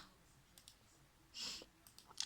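A new computer keyboard clicking at a home desk setup, a few sparse, crisp taps, then a brief burst of rapid clatter and a couple more sharp clicks, close and fairly quiet with no talk.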